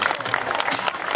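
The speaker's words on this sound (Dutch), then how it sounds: "Dan geven we een daverend applaus" A brief burst of audience applause at a Dutch Army open day SWAT demonstration, a dense crowd clatter lasting only about a second.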